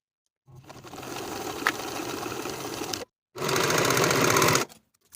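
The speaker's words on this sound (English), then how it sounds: "Sew the bottom edges of the pocket together with a 5/8 inch seam allowance" A sewing machine stitches the bottom edges of a pants pocket together in two steady runs, a rapid close mechanical whir broken by a brief pause, with silence before and after.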